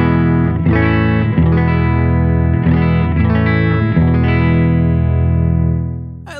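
An electric guitar played through a Benson Amps Monarch Reverb Plus amp strums a series of full, ringing chords with a lush reverb tail, loud and steady, fading at the end.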